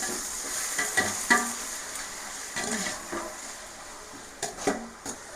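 Onions, chillies and tomatoes fry in oil for a two-kilogram batch of chicken biryani, a steady close sizzle broken by several sharp spatula scrapes and clinks against the pan.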